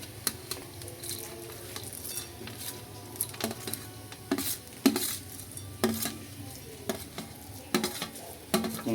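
Spoon stirring a date mixture with pumpkin seeds in a pan, giving repeated scraping and clinking strokes at close range, with soft, irregular rustling between the louder knocks of the utensil.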